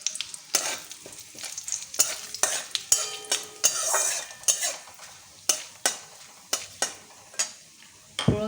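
Dried chillies, bay leaves, cumin and cloves sizzle in hot oil while a spoon scrapes and clinks against the pan in a series of sharp, close strokes over a crackling base.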